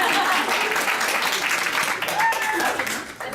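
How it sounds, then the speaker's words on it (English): An audience applauds at an evening women's wellness forum, steady dense clapping filling the room for a few seconds before tapering off at the end. "We're going to clap."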